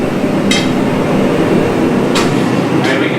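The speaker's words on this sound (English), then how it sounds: "I can kind of hook it on the edge of the anvil, right, and deliver some angled hammer blows" Angled hammer blows on hot steel hooked over the edge of an anvil while forging a point, a few sharp ringing strikes spaced apart over a loud, steady roaring background.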